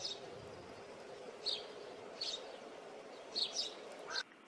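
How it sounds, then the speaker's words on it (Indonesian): Faint, short bird calls repeat several times over a steady background hiss, distant and irregular in rhythm. "Ya, ini adalah suara burung."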